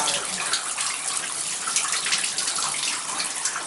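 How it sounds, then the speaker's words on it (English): Kitchen tap running at full flow in an apartment building with water pressure problems, a steady bright hiss of gushing water heard close and alone. "And I'll go turn on the kitchen tap."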